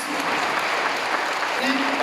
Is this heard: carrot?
no